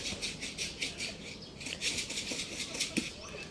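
Pigeons beat their wings in repeated quick fluttering bursts, faint and fairly close, over a low rustling background.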